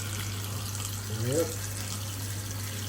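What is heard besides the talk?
tap water filling a pot for stew peas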